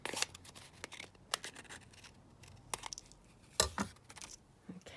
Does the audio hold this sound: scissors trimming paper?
yes